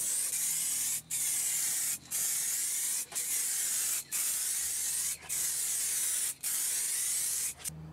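Rattle cans spray paint onto a crash helmet in loud, close bursts of steady hiss, about seven of them, each roughly a second long and separated by short gaps.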